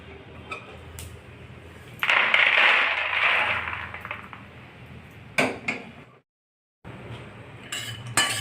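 A metal spoon scrapes roasted peanuts out of a hot pan while preparing a fasting barfi sweet, giving a sustained rattling scrape, then a few clinks and a brief silence before more stirring noise.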